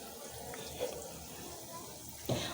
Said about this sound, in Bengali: মশলা কষানোর জন্য দিয়ে দিচ্ছি পানি।